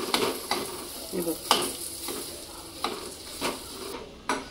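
Banana pieces roast in ghee in a pan with a soft, continuous sizzle and regular scraping and stirring taps from a spoon against the pan, close and fairly quiet, without talking.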